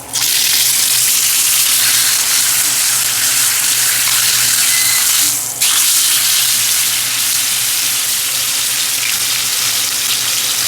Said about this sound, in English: That way you can give this beef a nice sear.